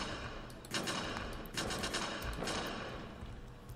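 Rapid bursts of Uzi shotgun fire in a homemade Unity video game, several loud volleys with brief pauses between them, dense and noisy with no talking.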